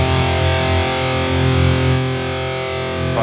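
Loud distorted electric guitar played through an Aurora DSP amp model on its Fire setting, a thick sustained chord ringing steadily for about three seconds with no talking.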